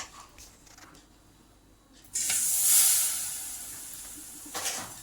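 A sudden loud sizzle and hiss as jaggery hits hot ghee, bubbling steadily and slowly fading, with faint kitchen clatter around it.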